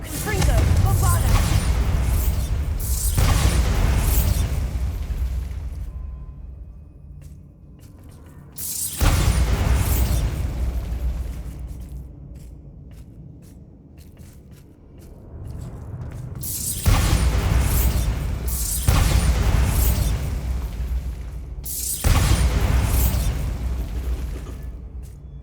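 Bombarda spell explosions in the game Hogwarts Legacy, four heavy booming blasts spaced several seconds apart, each with a long rumbling tail, loud and close.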